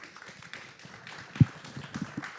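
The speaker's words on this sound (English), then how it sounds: "Let's give them a round of applause." A brief round of applause from a panel-event audience at SXSW, scattered, moderately loud claps with one sharper hit, thinning out over a couple of seconds.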